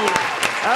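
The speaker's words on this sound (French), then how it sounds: "Applaudissez-les." An audience claps in a short burst of applause, close and fairly loud, with some voices mixed in.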